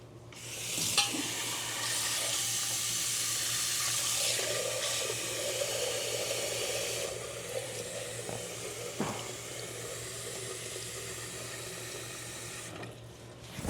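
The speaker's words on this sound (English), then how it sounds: "We just get some more water." Tap water runs steadily into a sink or container while pickle brine is mixed in a home kitchen, a constant rushing stream close by that eases off after a few seconds and continues softer, with a faint steady hum beneath.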